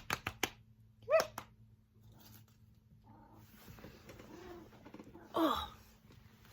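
A pet cat gives a couple of loud, drawn-out meows close by, one early and one near the end, with quieter rustling and faint background noise in between.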